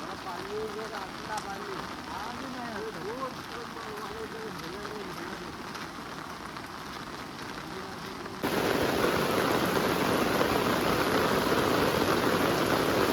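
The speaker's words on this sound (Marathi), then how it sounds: "सरीवर सरी येतात पावसाच्या अक्षरशः" Heavy monsoon rain in Konkan beside a flooded river, a steady wash of downpour with chirping bird or insect calls for the first stretch, then a sudden louder, denser roar of rain.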